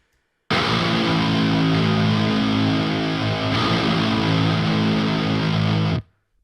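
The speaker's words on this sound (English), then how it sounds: "the guitars soloed sound pretty chunky on their own, but they don't have a huge amount of bottom end" Heavily distorted sludge metal guitars play alone, holding one thick, chunky chord loudly for about five seconds before cutting off abruptly, without much bottom end.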